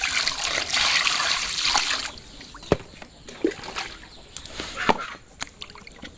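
Running water splashes and trickles while fish is washed in a village kitchen, first a loud steady pour, then lighter dribbles broken by wet slaps and clunks.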